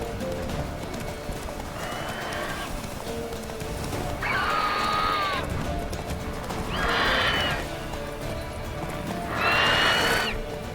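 Roach, a horse in The Witcher 3, neighs in three clear bursts spaced a few seconds apart over steady hoof clip-clop, near and fairly loud.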